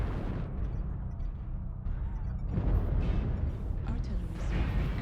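Heavy artillery strike explosions in the video game MechWarrior Online, deep rumbling booms that roll and overlap over several seconds, loud and close, with a voice speaking underneath.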